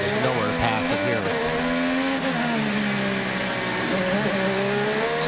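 IndyCar race cars at the 2012 Toyota Grand Prix of Long Beach street circuit, engines screaming as they accelerate off a corner, with rising gear-change sweeps and some tire squeal, loud and close.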